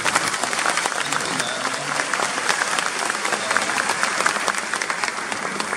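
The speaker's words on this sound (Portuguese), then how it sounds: "receba as nossas salvas de palmas" An audience at a festival talk on ageing well applauds to welcome a speaker, a dense, steady round of clapping filling the room throughout.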